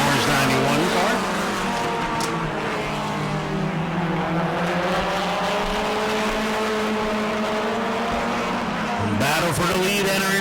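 Modified race cars circle an oval track at Auburndale in a Mod Mini race, engines roaring loud and continuous with rising and falling pitch as the pack battles for the lead, a commentator's voice running underneath.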